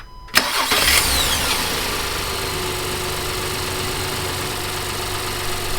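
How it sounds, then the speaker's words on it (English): A car engine cranks with a sharp onset from an engine-bay mounted ANCEL BS4 supercapacitor starter, catches almost at once and settles into a steady, close idle that runs alone to the end. "So now we're gonna try to start the car"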